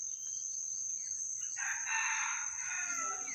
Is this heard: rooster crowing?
yes